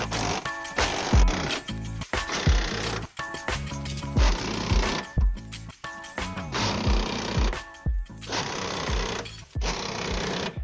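Impact wrench tightens roof rack rail bolts on a Nissan Frontier for a rooftop tent mount, firing in repeated hammering bursts separated by brief gaps, close and clear with no speech.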